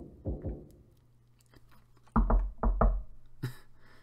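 A door is banged in the Umineko When They Cry visual novel: two knocks, then a pause, then a louder cluster of three or four heavy thuds, close and sharp with no voices.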